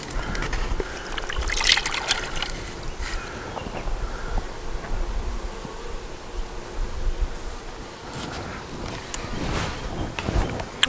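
Sugar water trickling from a jug into a bee feeder, a continuous dribbling pour with faint buzzing of bees around it and small knocks, close and alone.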